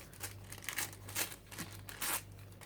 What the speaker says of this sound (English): And now I'm just going to tear some pieces